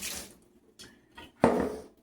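Water is poured into a half-filled mason jar while a Malaysian Indian tofu dish is prepared. Faint splashes and trickles build to a louder, close pour near the end, with no voices.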